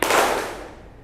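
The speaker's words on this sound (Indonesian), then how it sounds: "Tepuk 2 kali." A sharp burst of hands clapping together in a group clapping game, loud and close, ringing briefly in the room before fading.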